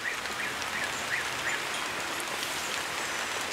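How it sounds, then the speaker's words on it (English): Steady rain falls outdoors in a continuous broadband hiss with no clear individual drops, evenly loud throughout. "It's actually raining outside"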